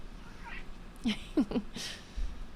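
A cat gives three short, high squeaks in quick succession, fairly close, with a faint breathy sound before and soft background noise around them.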